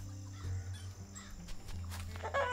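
A chicken in the farming video game Farmer's Life gives a few short honking clucks over a low droning game soundtrack, faint and brief.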